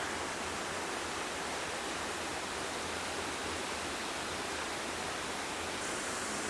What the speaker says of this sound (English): In any case, this is the waterfall.